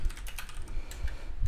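Fingers tap on a computer keyboard while text is entered in the Vim editor: a quick run of close, crisp keystrokes in uneven bursts, with no speech.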